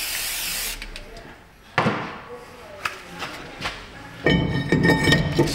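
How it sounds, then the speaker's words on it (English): A short aerosol burst of Fluid Film hisses near the start, followed by clinks and light taps of metal parts during a Toyota Sienna front brake job, ending with another spray hiss. "Look around for your fluid film can. Once you find it, spray it."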